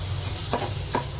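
Fish curry puree with fish roe fries in a pan, a soft steady sizzle broken by two brief scraping stirs, heard alone.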